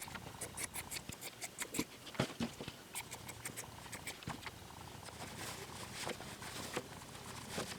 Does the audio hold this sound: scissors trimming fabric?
yes